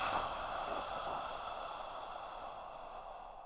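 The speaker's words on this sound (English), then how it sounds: "Exhale. Head back. Traction the spine. Exit all the air out of the lungs." A yoga instructor exhales long and audibly during a breathing exercise in a hot yoga class, a steady close breathy rush that slowly fades over a few seconds.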